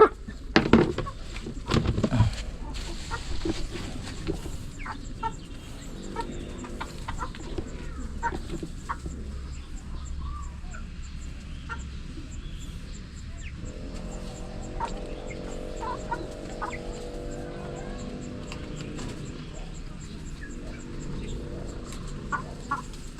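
Chickens clucking around a farmyard roosting perch, a steady scatter of soft clucks and calls from several birds near and farther off, continuing for the whole stretch with no one speaking.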